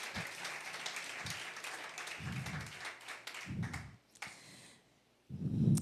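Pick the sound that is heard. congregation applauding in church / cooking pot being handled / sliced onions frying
congregation applauding in church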